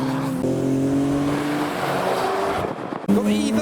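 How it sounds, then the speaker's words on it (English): A Lamborghini Aventador leaving a modified car show revs hard, its engine note holding steady and climbing in pitch, loud and close, before a brief dip and a fresh surge of revs at the end. "From the public car park we have a Lamborghini Aventador."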